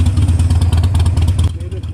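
A Harley-Davidson 883 with an air-cooled two-cylinder engine rides along a straight road, its deep, loud exhaust rumble pulsing steadily and close by, then easing off toward the end.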